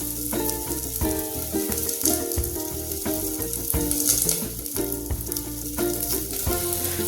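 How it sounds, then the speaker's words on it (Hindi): Small-cut potatoes fry in a pan, a continuous close sizzle with stirring, over a steady bed of music. "आलू को इतना भूनेंगे कि फिर थोड़ा सा लेयर ऊपर जाए, लाइट ब्राउन कलर की लेयर आए।"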